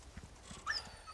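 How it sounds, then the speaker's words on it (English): Wolf whimpering in the Resident Evil 4 Remake video game: a short, high, thin whine lasting well under a second, rising over a low murmur of game ambience. "Yeah, that ain't no dog. That's a wolf."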